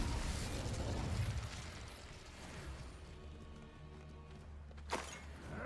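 A Confringo blasting spell explodes in Hogwarts Legacy, a fairly faint booming burst with rumbling debris that fades out, followed by a short sharp pop near the end.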